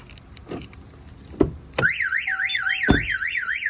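A Compustar alarm on a Ram TRX pickup sounds after a few door and body thumps, blaring a loud, close, rapidly warbling siren tone with short beeps layered over it.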